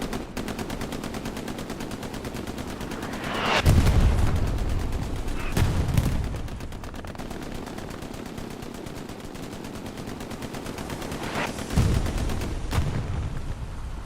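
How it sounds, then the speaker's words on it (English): Artillery shells landing near a tank on the Carentan Canal Crossing map in a competitive World War II video game, several heavy booming impacts over a constant rattle of distant gunfire and battle noise. "Arty round lands on the opposite side of the tank."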